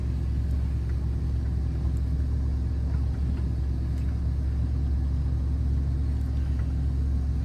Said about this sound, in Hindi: आस्ता आस्ता जा रही है गाड़ी